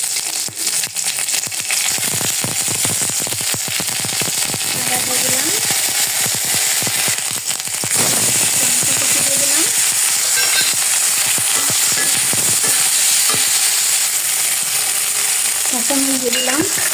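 Washed bay leaves, cinnamon and cardamom hit hot oil, crackling and spitting loudly and continuously up close, with a voice occasionally audible beneath the sizzle.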